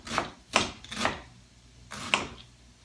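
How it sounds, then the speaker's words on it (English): A purple onion has its outer layer peeled, giving four dry crackling rips and tears spaced through a couple of seconds, close and fairly crisp, with no one talking. "now the onion, let's peel off that outer layer"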